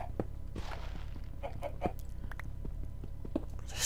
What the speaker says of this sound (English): There's another chicken up there.